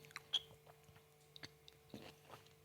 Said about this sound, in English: We'll wait for her to finish chewing.